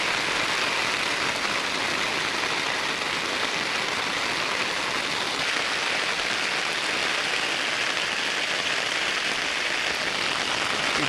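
Heavy rain pours down over village paddy fields where rice is being transplanted, a dense, unbroken hiss of water that stays loud and even throughout with no voices.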